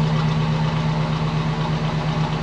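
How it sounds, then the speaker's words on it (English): A car engine idles steadily up close, a low even rumble with a faint rhythmic knock, nobody talking. "Start the engine."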